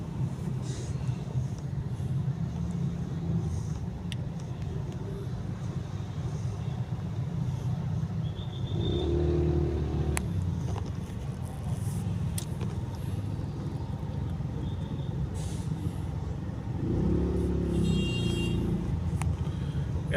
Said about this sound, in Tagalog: Yan guys, oh, tukod ang traffic yan.